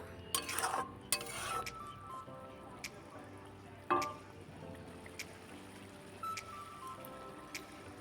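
Tomato and fried capsicum being stirred in a pan for a no-onion, no-garlic masala paneer, heard as a run of soft scrapes and clinks with faint sizzling underneath, close and fairly quiet.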